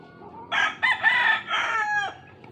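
A gamefowl rooster at feeding time lets out a single full, close crow lasting about a second and a half against quiet farmyard background.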